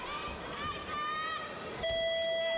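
A judo match buzzer at the All Japan Judo Championships sounds as a steady electronic tone near the end, over crowd noise in an arena with commentators talking.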